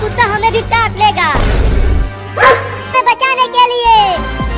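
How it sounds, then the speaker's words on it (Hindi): A dog chasing a small cat lets out a few barks and yelps that are mixed in with excited talking, loud and close, with a noisy burst partway through. "देखो चिंटू, लगता है कुत्ता पकड़ ही लेगा उस बिल्ली।"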